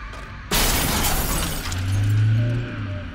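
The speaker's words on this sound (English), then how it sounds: "giving way to the shattering of glass and the loud crunch of deforming metal." A car crash bursts in abruptly with loud shattering glass and the crunch of deforming metal, the violent impact sustained and filling the scene after a brief quiet opening.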